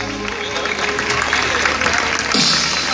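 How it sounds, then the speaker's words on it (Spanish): Applause from a crowd at a carnival inclusion gala in Gáldar, steady and dense throughout, with voices and cheers mixed in over a lively hall. "Un aplauso para ti, que has estado maravillosa."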